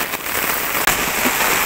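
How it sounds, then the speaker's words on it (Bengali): Heavy rain falling on a rainy morning, a dense, loud, continuous patter on surfaces close by, with one brief dip and sharp knock midway. "যে পরিমাণ বৃষ্টি হচ্ছে"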